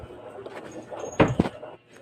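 A house door swings shut in the morning, a couple of close knocks and a latch thud over faint room noise.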